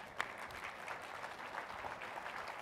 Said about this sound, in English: Your audience gives you a round of applause.